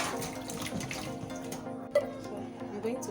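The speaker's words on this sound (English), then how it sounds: "washing the tomatoes." Tap water runs steadily while tomatoes are washed in a sink, a continuous splashing stream with brief louder splashes, close and fairly loud.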